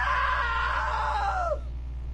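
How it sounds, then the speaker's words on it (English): A long, shrill human scream from the video game What Remains of Edith Finch rises and holds, then bends downward and cuts off, loud over a steady low hum. "Now that was a great scream."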